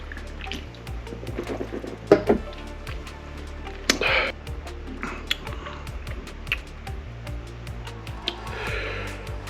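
Water being poured or sipped during a ghost pepper hot sauce tasting, with scattered small liquid drips, gulps and clicks spread over several seconds, close and fairly quiet.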